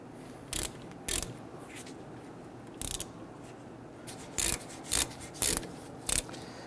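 Caliper bracket bolts being tightened on a 2006-2012 Toyota RAV4 during a rear brake job: short, separate rasping ratchet strokes close by, a few spread out and then a quicker cluster of four near the end.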